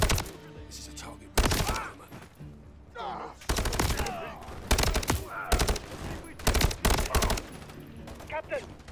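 Call of Duty Modern Warfare 3 campaign combat in a frozen tundra setting, with loud irregular bursts of automatic gunfire, single heavy shots, and voices talking between volleys.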